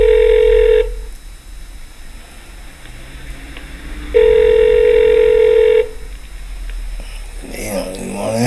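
A telephone rings on a 911 emergency line at an EMS dispatch center, two long loud rings separated by a pause, with a low hum and a brief voice near the end.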